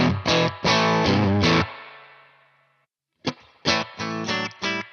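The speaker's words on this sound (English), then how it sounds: "Channel change from green to red, a bit dirtier, gnarlier" Electric guitar played through a TC Electronic Combo Deluxe 65 amp on its red channel, loud gritty chords struck in bursts, one left ringing and decaying before a fresh flurry of choppy distorted strums.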